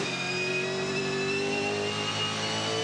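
Onboard a Nissan V8 Supercar racing at the Tasmania SuperSprint, the engine holds a loud, sustained high-revving drone with steady harmonic tones, close and continuous throughout.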